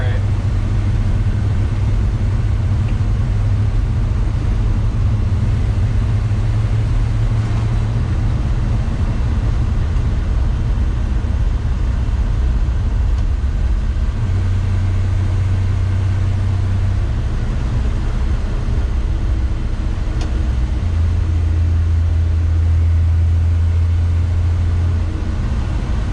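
1970 Chevy C10 engine running with a Holley 2-barrel carburetor, a steady loud low rumble throughout, with indistinct voices mixed in.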